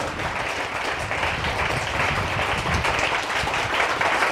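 Audience at a village talent showcase event applauding steadily, dense continuous clapping with no voices on top.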